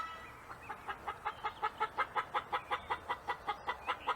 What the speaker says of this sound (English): chicken starting her egg song